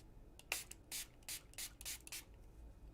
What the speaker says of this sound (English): I just have a little water spray bottle here that's going to give me a fine mist